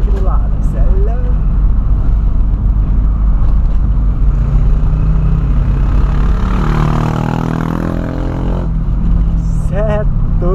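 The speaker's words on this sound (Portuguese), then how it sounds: "Olha os tiozão das motos, vai passar estralando aqui do lado." Loud motorcycles ride past close by, engines building to a roaring, crackling pass that swells mid-clip and fades, alongside a nearby idling engine and a brief voice.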